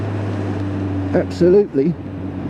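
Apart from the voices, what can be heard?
Kawasaki Z1000 SX motorcycle exhaust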